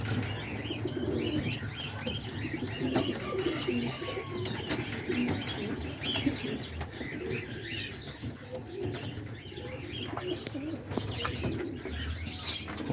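Pigeons coo softly and steadily at a feeding spot outdoors, with low murmuring calls over a constant background hum and a few faint chirps.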